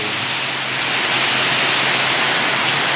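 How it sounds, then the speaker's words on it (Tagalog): Heavy rain pours down outdoors around a rural vegetable garden, a loud dense hiss of drops hitting surfaces, steady and unbroken throughout with no voices. "Grabe ka kusog sa ulan."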